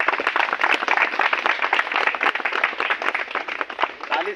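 A crowd of audience members claps steadily and densely at a gathering, the applause sustained and fairly loud from start to finish with no break.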